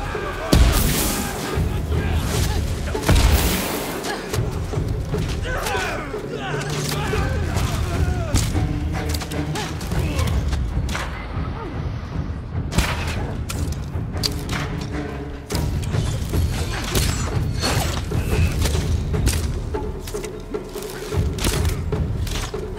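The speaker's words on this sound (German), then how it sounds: "Schwarzpulverbombe, Böller" Black powder bombs and firecrackers go off in the samurai game Ghost of Tsushima as a dense run of loud booms and thuds. Game music and battle noise continue underneath throughout.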